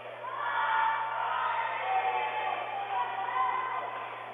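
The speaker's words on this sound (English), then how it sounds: "We hear lots of cheering." A large crowd at a college volleyball match cheers and shouts loudly and continuously, a dense roar of many voices filling an indoor space.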